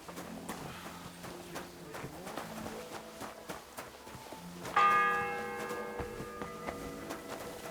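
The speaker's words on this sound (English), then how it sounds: "The bell's ringing for Hans the 5th time." A church bell rings out in the medieval world of Kingdom Come Deliverance 2, with a bright resonant strike partway through that hangs and decays, over quiet ambient sounds and soft clip-clopping hooves.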